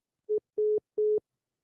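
Three short electronic tones sound on a telephone line after a call drops, a brief first beep followed by two longer evenly spaced beeps with silence between, clean and close.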